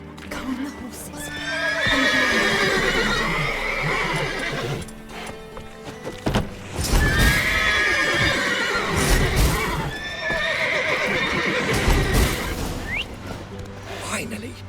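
Agitated horses in The Witcher 3 give repeated loud whinnies in bursts, with hooves clip-clopping and game music underneath, and a voice speaking in places.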